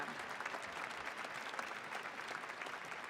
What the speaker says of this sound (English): Please join me in a round of applause for the graduates of the Masters of Medical Management program